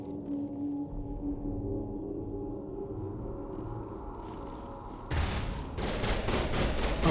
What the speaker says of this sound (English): Oh good, they're shooting.